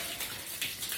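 A newly set-up washing machine filling with water, a steady rushing, splashing flow with slight swells, heard alone and close.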